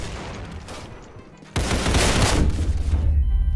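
Rapid gunfire in the Roblox game Criminality, a dense continuous burst of shots that grows louder and fuller partway through and carries on to the end, with no talk over it.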